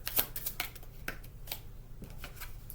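A deck of cards shuffled close by, with a string of crisp riffling flutters and snaps repeating through the moment, no talk.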